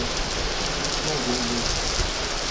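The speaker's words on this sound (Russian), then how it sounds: "Давно, кстати, у нас не было дождя. Это на самом деле даже хорошо. Дождик." Steady outdoor rain falls with a dense, loud, continuous patter close by, with no pauses.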